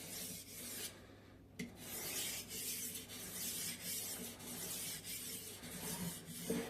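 A knife blade rasps steadily across a whetstone, held at a constant angle and drawn along the stone's full length in continuous grinding strokes, close up and fairly quiet with a brief pause near the start.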